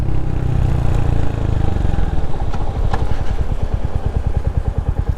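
A 2023 Royal Enfield Hunter 350 single-cylinder motorcycle engine thumps loudly and close during a ride, its steady low pulsing firing beats running throughout with no talk over it.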